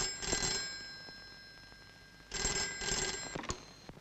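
An old-style telephone in a film scene rings in two distinct bursts separated by a short pause. The ringing is clear and close, with no voices over it.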